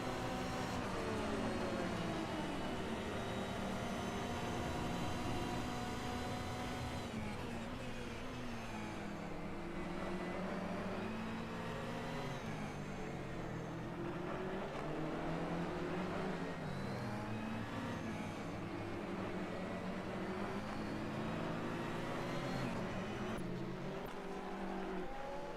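Ferrari sports car engine heard onboard from a roof-mounted camera during a three-hour endurance race at Mid-Ohio in a sim racing series, a loud continuous engine drone with rising and falling gear-change sweeps throughout.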